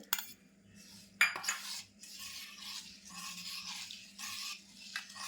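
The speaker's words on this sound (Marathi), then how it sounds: "हे गूळ आपल्याला व्यवस्थित असं मिक्स करून घ्यायचं दुधामध्ये" Jaggery being stirred into milk in a pot for kharvas, a spoon clinking and scraping against the metal in repeated strokes, close and moderately loud, with no talking.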